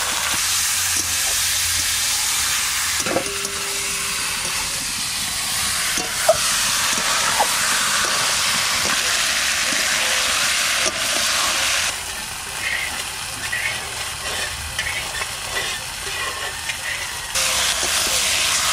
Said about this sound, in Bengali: মাংসটা চাপাবো, সর্ষের তেল দিয়ে দেবো। ফোড়নে দিচ্ছি জিরে